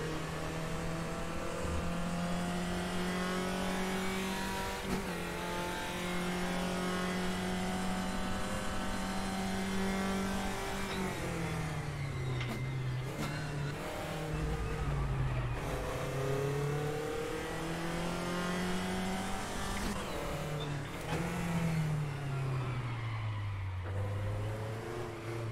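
A race car in the RaceRoom driving simulator runs continuously up close, its engine droning and rising and falling through revs and gear changes, with occasional brief tire noises.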